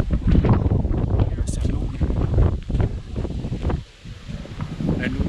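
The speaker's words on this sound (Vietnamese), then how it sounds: "gió to gió thổi này" Strong wind gusting across a mountainside where wild peach trees bloom in Vietnam's northwest highlands, buffeting the microphone with loud, continuous roaring and rustling that briefly eases before surging again.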